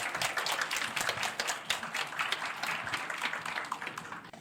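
Audience applause at a Korean seminar on small-farm organic matter recycling, steady dense clapping from a crowd in a hall, moderately loud and continuous throughout.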